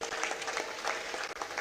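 Crowd at a political rally in Dewas applauds in welcome of a local legislator, a dense continuous clapping that stays steady and fairly far off with no voices over it.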